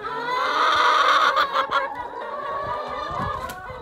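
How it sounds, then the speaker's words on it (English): Egg-laying hens on a farm cluck and chatter inside their coop, a close, busy mix of overlapping calls and squawks with a few rustling bumps. "I'm just in collecting eggs this morning, looking after the chickens. They're very chatty today."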